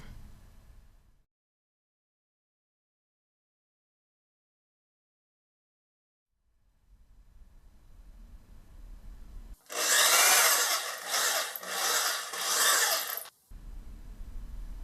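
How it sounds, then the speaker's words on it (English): A drill-driven paint mixer churning papier-mâché clay ingredients: after a long silence a loud, harsh whirring grind runs for a few seconds with short pulses, then drops to a low rumble. "Next, I get to use my old sidekick, the paint mixer, again."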